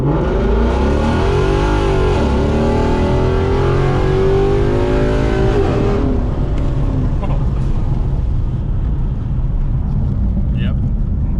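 A Ford Mustang S550 fitted with a Circle D torque converter accelerates hard from inside the car, its engine roaring and rising steadily in pitch, then easing into a broader rumble for the last few seconds.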